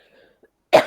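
A single sharp cough bursts out near the end, close and loud, after a stretch of near silence with faint murmurs; it comes from a person struggling with a cough during a software testing class session.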